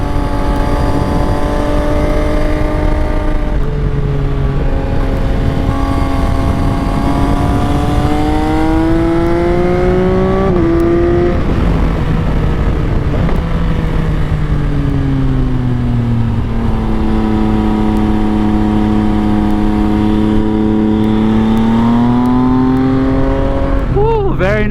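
A 2024 Yamaha XSR 900 motorcycle engine drones loud and close while riding, its pitch rising and falling through gear changes and throttle shifts, with wind roar throughout.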